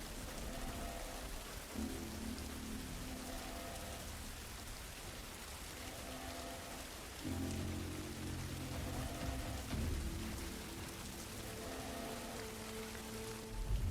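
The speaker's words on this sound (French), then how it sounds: "Mais là, avec la pluie, ça m'arrange pas." Rain falls steadily in the video game The Last of Us, a soft continuous wash with low rumbling swells and shifting background tones.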